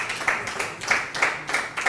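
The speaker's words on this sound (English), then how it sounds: "Come on, guys, a round of applause as he picks that" A round of applause at a conference and expo, with rhythmic, fairly close clapping in regular bursts, steady and moderately loud, with no talk over it.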